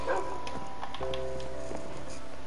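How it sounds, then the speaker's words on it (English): Minecraft dog barking in short yips amid game noise, with a voice speaking over it. "Doggy."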